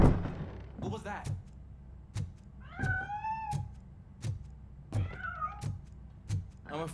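A cat meowing in the video game Robocop: Rogue City, giving two clear, drawn-out meows amid repeated dull thumps and low background hum.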